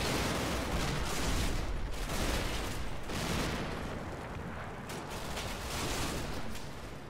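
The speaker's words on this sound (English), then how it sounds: "that's just some mortar rounds landing" Mortar rounds, likely 81 mm, land during a war video game battle, a continuous loud barrage of heavy booming impacts and rumbling blasts rolling one into the next.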